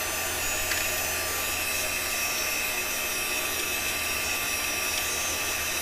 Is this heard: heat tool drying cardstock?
yes